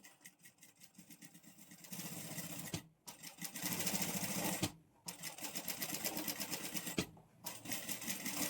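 A domestic sewing machine stitches fabric in steady, rapid bursts, with three short pauses between the runs of mechanical whirring and clatter. It is fairly close and there is no talk.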